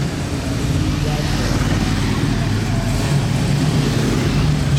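A Chevrolet American gangster-style car engine and exhaust rumble steadily and loudly at close range, a constant low drone with traffic-like roar and no talk.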